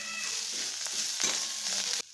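Potato vada filling, with crushed chili thecha already in it, fries in a pan with very little oil as coriander goes in. A soft, close sizzle crackles for about two seconds, then cuts off.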